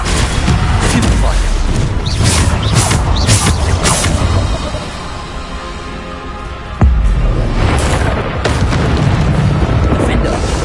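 Stupefy spell blasts in the Hogwarts Legacy video game, loud booming bursts in quick succession with a sharp hit near the middle, amid dense combat noise.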